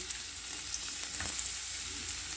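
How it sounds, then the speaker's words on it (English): Steady crackling sizzle of Japanese sweet potato frying in oil, a continuous hiss with small pops, close by and moderately quiet. "So let's fry our kamote."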